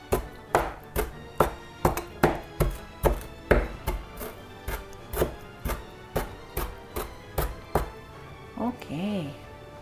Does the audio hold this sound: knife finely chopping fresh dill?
yes